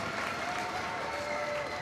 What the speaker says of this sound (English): receives a round of applause